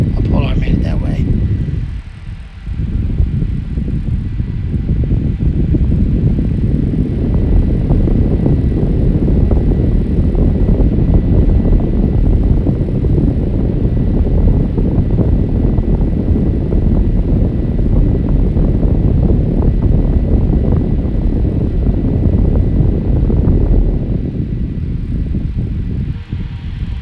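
A 5.5-inch blue Opolar USB fan spins at high speed, a steady loud whooshing whir of air from the blades that holds evenly throughout, close to the microphone.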